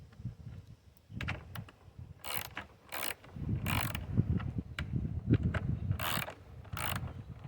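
Ratchet clicks sound in quick bursts while screws are tightened on a fence gate, mixed with scraping and rattling of metal parts close by, alternating with short pauses.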